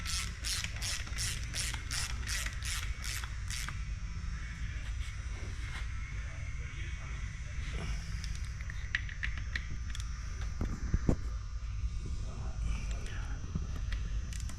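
A hand ratchet tightening bolts on an NP203 transfer case during a rebuild: a quick run of sharp pawl clicks at the start, then scattered mechanical clatter and softer clicking against steady background noise.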